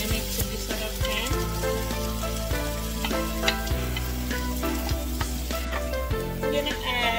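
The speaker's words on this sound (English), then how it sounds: "So this is the white onion, I'm just adding it to this other pan." Sliced white onion frying in a hot pan for Chinese fried rice, a steady crackling sizzle with stirring clatter running throughout, fairly close, with no talk over it.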